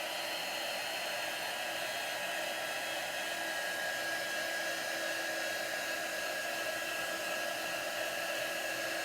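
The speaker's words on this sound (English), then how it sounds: "I like to use my heat tool, but be really careful not to overheat your transfer." Heat tool blowing hot air over a chalk transfer, a steady close whooshing hum with a faint whine that holds unbroken and alone.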